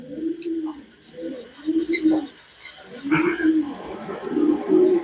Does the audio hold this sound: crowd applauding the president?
no